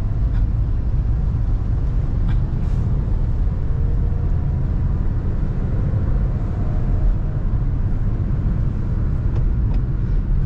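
A Honda Brio hatchback pulls along a town road in second gear, its engine a steady low rumble under broad road and wind noise from inside the cabin.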